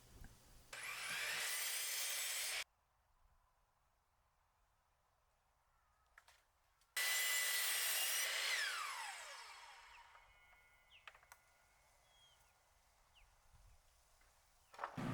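A miter saw cuts lumber outdoors in two loud bursts of whining, rasping blade noise with quiet gaps between. The second cut trails off as the blade spins down, and there is no speech.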